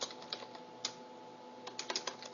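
Quiet typing on a computer keyboard, with scattered light key clicks and a quick flurry of taps near the end, close and soft over a faint steady hum.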